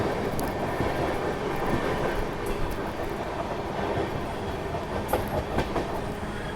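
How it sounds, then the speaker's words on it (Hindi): The 12801 Purushottam Express from Puri to Anand Vihar runs on the rails: a continuous rumbling roar with rhythmic clickety-clack of wheels over joints and occasional higher squeals, sustained and fairly loud with no talking. "अब ट्रेन 1:30 पे लगातार भागने वाली है"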